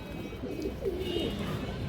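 Old-breed Khoragola pigeons coo in low, rolling phrases close by, the soft throaty calls blending with steady background noise.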